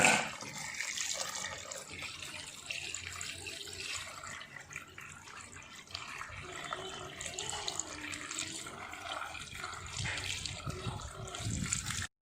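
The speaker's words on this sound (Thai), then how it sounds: "เดี๋ยวเรานำกุ้งมาล้างก่อน" Raw shrimp rinsed in a kitchen sink under a running tap, a steady splashing water stream with small sloshing and clinking movements throughout, moderately quiet and with no talk.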